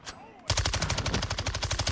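Rapid automatic gunfire in Call of Duty: Modern Warfare II, bursting in loudly after a brief quiet lead-in and continuing as a fast, even rattle of shots.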